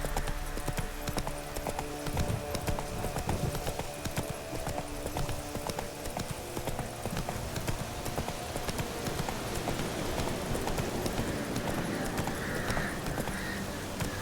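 Steady rhythmic clip-clop of horse hooves galloping in The Witcher 3, continuous and close throughout over a dense game soundscape.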